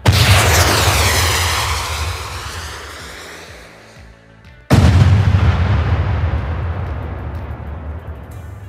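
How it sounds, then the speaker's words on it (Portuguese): A bazooka fired by a gang member in a Batman video game: two loud, booming blasts about five seconds apart, each a sharp crack that rolls into a long decaying roar, close and dominant with no talk. "no instante em que um membro da gangue atira uma bazuca"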